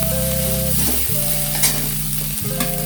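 Rice frying with tomato in a pan, a steady close sizzle with stirring scrapes and a low burner hum, broken by brief pauses.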